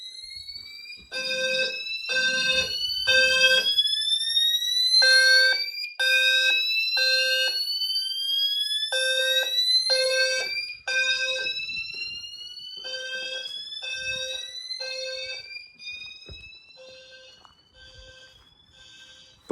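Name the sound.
garage and house fire alarm systems sounding together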